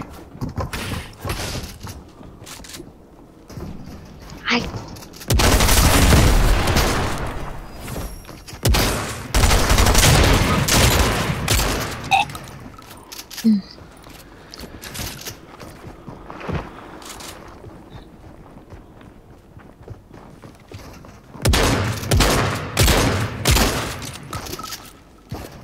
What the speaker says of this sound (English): Oh shit, he's got a grenade launcher.